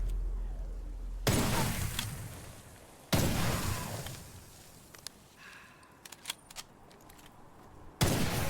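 Heavy gunfire from a firearm in the video game Witchfire, loud broadband bursts at three points with a few sharp cracks and a quieter, rumbling stretch in between.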